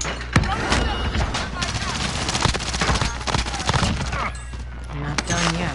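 Rapid bursts of gunfire from a PS4 shooter game, dense and continuous, with several sharp louder shots over steady background noise, while players talk over it.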